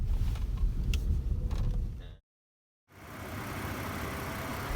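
A 2017 Nissan Pathfinder rolls along an off-road trail, a steady broadband engine and road rumble that cuts out for a moment of silence, then returns at a slightly smoother, even level.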